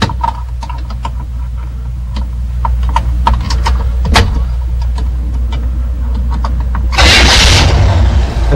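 An older General Motors car with its ignition bypassed cranks and fires up, a low steady engine rumble with sharp clicks and knocks, then a louder broadband burst as it catches near the end, no talking.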